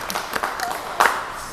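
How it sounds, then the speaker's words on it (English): Brief, scattered clapping from a small audience at a science outreach demonstration, a few claps and a louder burst near the end mixed with murmuring voices. "Let's give a round of applause for Andy."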